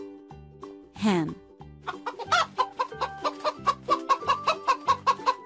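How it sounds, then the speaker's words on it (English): A farm hen gives one sharp squawk, then a run of quick, evenly spaced clucks, close and clear, with short gaps at first. "Hen."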